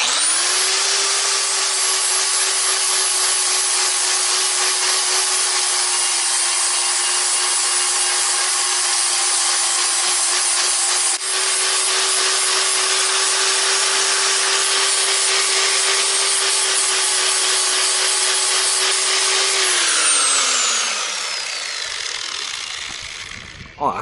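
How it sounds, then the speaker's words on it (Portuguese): A sanding disc on an angle grinder grinds off melted brass weld on a Volkswagen Kombi body panel, a loud, continuous high-pitched whine held for about twenty seconds, then winding down as the tool spins to a stop. "vocês vão ver agora quando eu passar a lixadeira, o disco de lixa, que a maior parte do latão que eu derreti aí vai embora"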